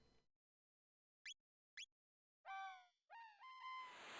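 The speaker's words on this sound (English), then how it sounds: "Weird sound effects of the seagulls." Chirpy seagull sound effects from the Chrono Trigger video game: two short quick squeaks followed by two longer falling, warbling cries, clear and isolated against silence.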